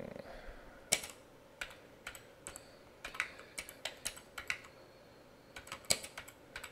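Footer text being typed on a computer keyboard: a run of light, uneven key clicks with short pauses, close and fairly quiet, no voices.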